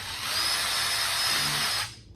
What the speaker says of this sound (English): and drill these holes in here